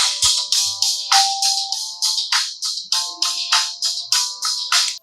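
The "pop rock" notification tone on a Poco C75 phone plays as a quick run of bright, percussive synth plucks with a pulsing rhythm, clear and close, with no talking.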